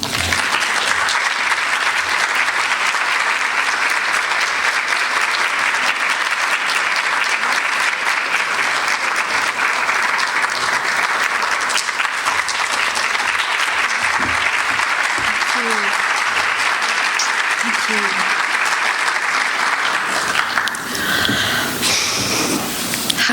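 A lecture audience gives a long, loud, continuous round of applause welcoming author Bahiyyih Nakhjavani, dense clapping that holds steady for about twenty seconds before tapering off.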